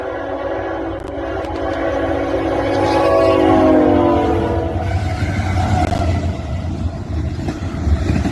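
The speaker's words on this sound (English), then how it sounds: "Next we have CSX IO17 with CSX 500 trailing third." CSX intermodal freight train IO17 rolls past with a long horn blast that swells and fades over several seconds, the steady rumble and clatter of railcars continuing loud and close throughout.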